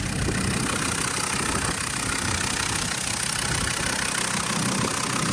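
A Land Rover Discovery TD5 diesel with a blanked EGR valve and missing fan shroud idles just after starting, a loud, steady, close engine rumble with a slight knock that runs unbroken throughout.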